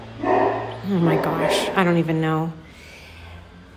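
A pet dog barks and yips a few times close by indoors, overlapping with someone talking; neighbours' lawn mowing sits faintly in the background.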